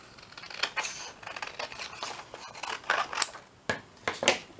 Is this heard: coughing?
no